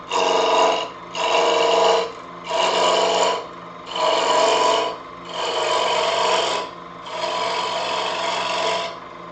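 A lathe cutting tool braced on a tool rest rasps against the spinning workpiece in six loud, steady strokes about a second long, each separated by a brief quiet gap.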